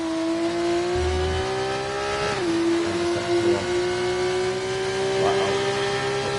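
Race cars on the Saudi Arabia circuit running super soft tyres, with a steady, loud engine drone near the camera, one audible gear shift and a slight pitch change as the car drives on.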